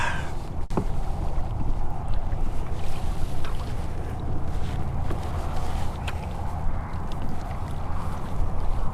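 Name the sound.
strong wind while kayaking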